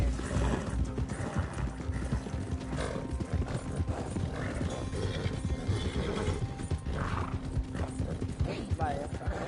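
Horse in Red Dead Redemption II gallops with rhythmic clip-clopping hooves under a whinny, mixed with mechanical game sounds and someone talking over it.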